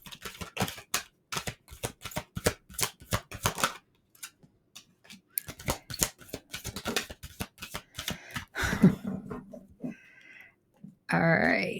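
A tarot deck being shuffled by hand, with quick rapid riffling clicks in bursts separated by pauses and a faint voice speaking briefly between them.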